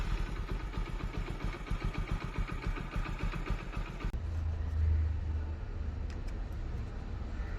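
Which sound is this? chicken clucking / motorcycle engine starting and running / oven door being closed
motorcycle engine starting and running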